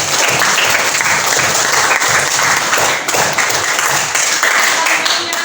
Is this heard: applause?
yes